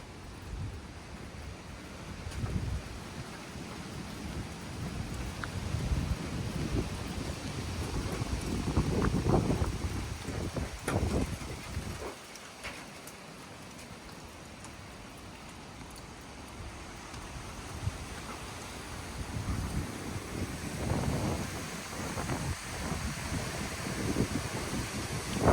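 Strong winds after a storm roar and gust outdoors, a broad rushing noise with heavy buffeting on the microphone that swells, drops away briefly, then builds again.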